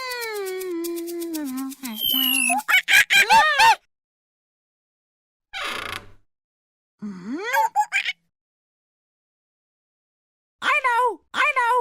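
A pet bird mimics a rooster's crow in several drawn-out, wavering calls, loud and close, separated by silent gaps and mixed with other squawky vocal imitations.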